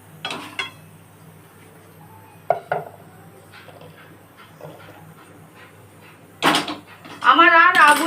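Fried cashews are set down from a pan, with a few sharp clinks of metal utensils and cookware, a brief scraping clatter near the end and a voice heard briefly.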